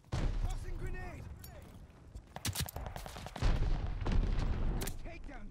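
In Call of Duty: Vanguard, sharp gunshots crack out in scattered bursts alongside a heavier thump from a grenade, heard beneath game voice chatter and callouts.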